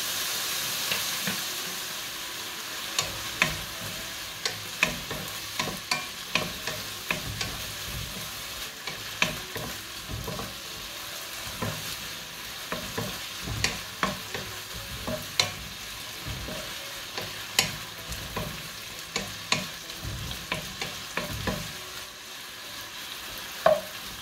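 Keto carbonara sizzles and fries in a pan while a utensil stirs it, with repeated scraping clicks and taps over a steady soft hiss, fairly quiet and close.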